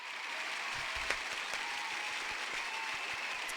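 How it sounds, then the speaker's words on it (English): Dense applause from a small group fills the whole stretch, steady and close, with scattered individual claps standing out briefly near the start. "Let's give them an applaud."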